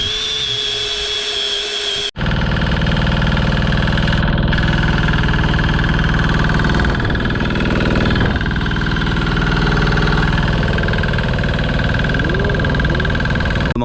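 A Chinese-made diesel engine bought from Amazon starts abruptly after a brief quieter lead-in, then runs steadily at a loud, rough, knocking idle with constant mechanical vibration and no talk.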